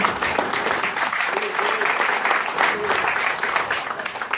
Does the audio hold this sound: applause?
yes